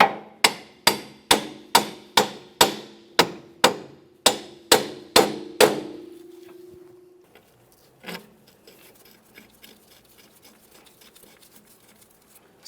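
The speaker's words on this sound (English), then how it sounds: "Once it's aligned, go ahead and tap it into place." A hammer taps a front strut assembly into place on a 2003-2007 Honda Accord, about a dozen loud ringing metallic strikes in a steady rhythm, then a lingering tone, a single fainter knock and quiet shuffling.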